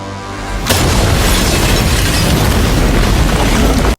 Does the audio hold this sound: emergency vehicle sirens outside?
no